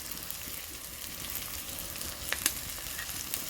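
Cashews, raisins and turmeric sizzle in hot oil for a poha pulao, a steady close frying hiss broken by a few sharp stirring clicks and scrapes.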